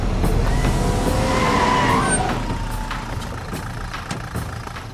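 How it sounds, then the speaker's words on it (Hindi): Car in a Hindi-dubbed South Indian action film turning sharply, a loud engine roar with tyres skidding and squealing for about two seconds before easing into a lower, fading rumble. "गाड़ी घुमा।"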